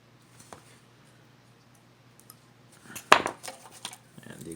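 Sharp X-Acto knife carving a wooden block for a Native American style flute: faint scraping strokes early, then a louder cluster of close, crisp cuts and shaving scrapes toward the end.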